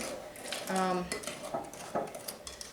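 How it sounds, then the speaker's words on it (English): A spoon scrapes and clinks against a bowl while brownie batter is mixed, a few quick knocks and scrapes up close with a brief tonal ring. "Dump that in, mix that up real good."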